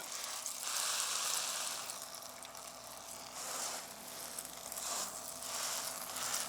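Hamburger patties sizzle in a pan, a steady close frying hiss that swells and eases in waves, with no talk over it.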